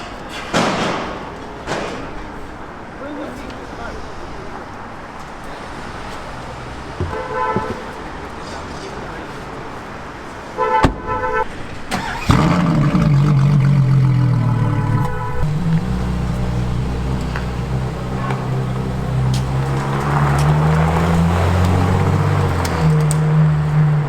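Ferrari LaFerrari, a 950-horsepower hypercar on a London street: a few door thuds, then the engine fires up and revs loudly under crowd chatter before the car pulls away, staying strong and steady.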